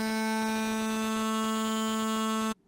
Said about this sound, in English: The next effect is the phaser.